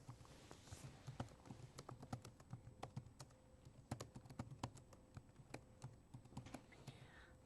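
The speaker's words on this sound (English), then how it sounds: "She's typing something into the computer." Someone types on a computer keyboard, producing a steady run of quick, close clicking keystrokes at fairly low volume, with no talking.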